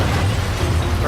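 A grenade explosion in a video game, a dense low booming burst with rumbling that fills the whole short moment at steady loudness, with no talk over it.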